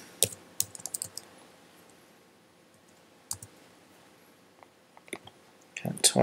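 Sparse, scattered keyboard clicks at a computer, a few quick taps early on and short bursts toward the end, faint and close with long quiet gaps between.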